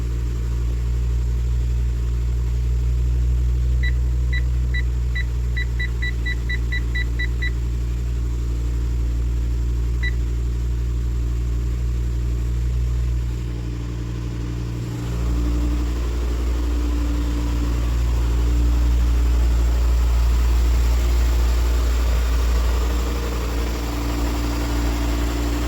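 A Mitsubishi Magna idles steadily after a jump start from a dead battery, a continuous low engine rumble with a few faint electronic beeps early on and a brief dip partway through.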